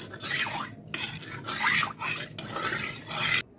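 Ajwain being stirred into gram flour batter for besan chips, close scraping and rubbing strokes in a rough rhythm of several passes with short pauses, fairly quiet, no talk.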